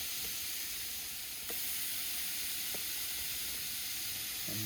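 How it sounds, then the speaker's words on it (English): Large chicken breasts, about 1.5 pounds each, sear directly over hot charcoal coals, producing a quiet, steady sizzling hiss with a few faint pops. "I kind of sear them right over the coals"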